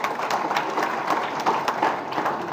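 A crowd at a Narayan Rane political rally claps steadily, a dense even patter of many hands sustained throughout without a break.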